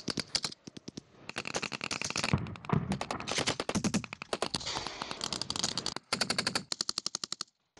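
Rapid bursts of automatic gunfire from military training in high mountains crack out in quick succession, loud and close, with brief pauses between volleys.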